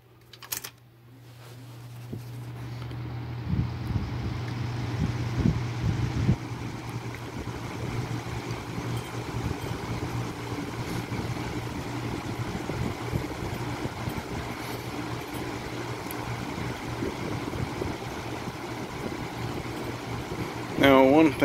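Lasko 3733 box fan on low setting with a steady, constant whirring hum that holds unchanged throughout, with no talking.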